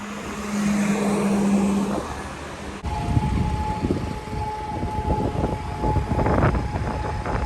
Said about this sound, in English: You may or may not hear the siren in the background